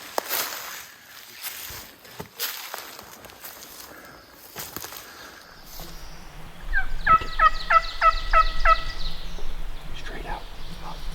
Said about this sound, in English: He's still gobbling.